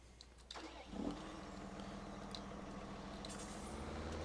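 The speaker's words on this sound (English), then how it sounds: "Now let's go over here and get our tractor." A farm tractor engine cranks and catches, then settles into a steady, rumbling idle, heard close and fairly loud with no talking.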